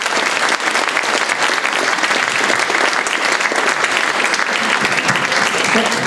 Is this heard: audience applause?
yes